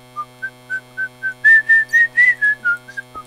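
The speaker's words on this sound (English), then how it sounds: "No whistling." A person whistles a quick run of about a dozen short, clear notes, close and fairly loud, the middle notes longer and stronger, with a faint steady hum underneath.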